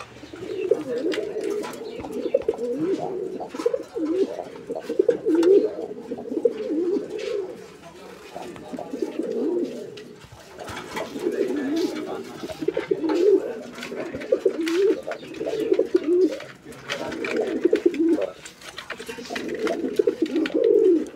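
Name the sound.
white Parvin pigeons cooing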